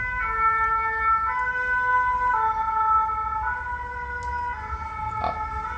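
An ambulance or fire engine siren passing outside, wailing in steady repeated tones at moderate distance over a low traffic rumble, holding steady with no talk.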